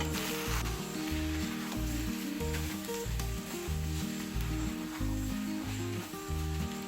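Beef roast with spices and fried coconut is stirred in a pan, a continuous sizzle with scraping strokes heard over steady rhythmic background music, no talk.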